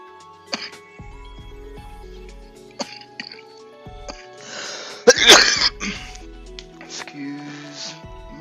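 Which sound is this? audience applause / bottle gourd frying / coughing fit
coughing fit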